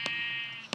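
A video-game sheep bleats once in a thin, sustained, nasal cry, flanked by two short sharp thumps, fairly faint and alone.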